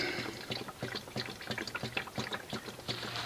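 Manual transmission fluid drains from a 2015 Honda Accord six-speed, a steady close trickle and splash of liquid pouring continuously with a faint rhythmic gurgle.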